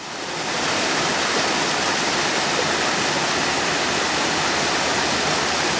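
A small creek pours steadily over stone remains of an old canal lock where it empties into the Susquehanna River, a loud, close, continuous rush with no voices.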